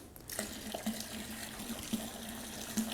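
Cold water poured into a brewing pot to top up a five-gallon batch of homebrew summer ale with honey, a quiet steady splashing stream with small gurgles and no talk.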